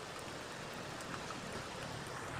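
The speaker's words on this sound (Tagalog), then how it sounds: "malakas po yung ulan dito" Heavy rain falling near a pigeon coop, a dense, steady hiss of downpour filling the whole scene at moderate volume, with no break or voices.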